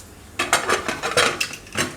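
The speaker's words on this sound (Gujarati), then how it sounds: "હવે કુકરનું ઢાંકણું બંધ કરી દેવું." A pressure cooker lid is shut in a home kitchen while making green chickpea and potato rice: a quick run of five or six sharp metallic clanks and scrapes, close and fairly loud, with no talking.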